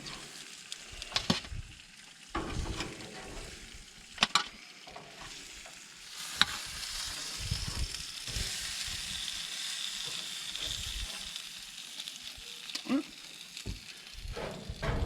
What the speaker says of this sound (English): You still hear that sizzle? These chickens are gonna be cooked perfect.